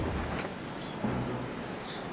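Steady rain hiss with a low rumble of thunder in the Zelda: Twilight Princess video game, falling on a boss arena, continuous and fairly loud with no voices.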